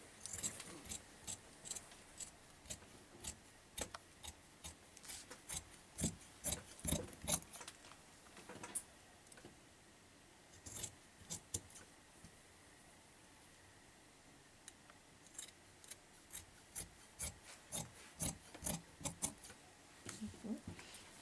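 Scissors snip through fabric while a woman cuts pieces for an off-shoulder blouse, sounding as quiet, irregular crisp clips in steady runs with short pauses in between.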